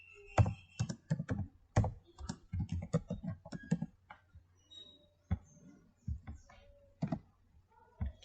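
Keys clatter on a computer keyboard as a command is typed, irregular bursts of close, crisp clicks with brief pauses between words and a final couple of isolated taps.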